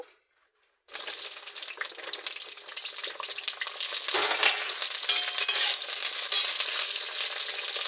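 Pieces of pointed gourd (potol) hit hot oil seasoned with salt and turmeric after a moment of silence, then a loud, steady close sizzle and crackle of frying continues to the end.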